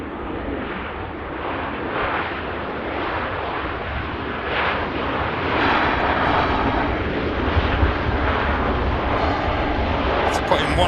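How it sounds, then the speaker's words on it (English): A Ryanair airliner touches down at Manchester Airport with a wobbly landing, producing a steady broadband engine and rushing-air roar that swells slightly over its last seconds and carries on without a break. "Bit of a wild, wacky touchdown from the Ryanair there"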